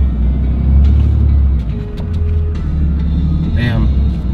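A manual pickup truck pulls away in third gear with a steady, loud low engine rumble close by, its tone shifting slightly partway through.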